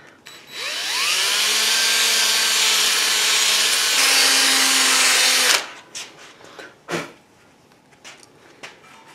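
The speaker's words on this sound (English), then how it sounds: "all I want to do is drill into the back of the weld" A power drill bores into the back of a weld on a Mustang rear valance, a loud, close whine rising as it spins up and holding steady for about five seconds, then stopping, followed by a few clanks and handling knocks.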